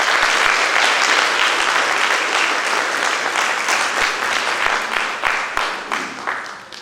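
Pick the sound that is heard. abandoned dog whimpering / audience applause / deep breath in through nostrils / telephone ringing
audience applause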